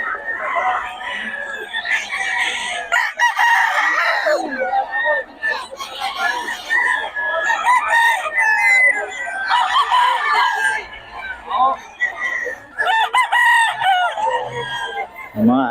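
Roosters crow repeatedly at a busy Bocaue tiangge market, loud overlapping calls with clucking between them, while people talk nearby throughout.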